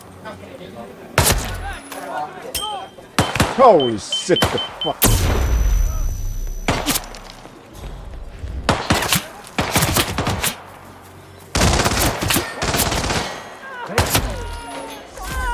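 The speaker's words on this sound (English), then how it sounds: "That was a gunshot." Gunshots in the Hitman Freelancer video game ring out as several loud, sharp bursts and thuds spread across the scene, with a man swearing in surprise between them.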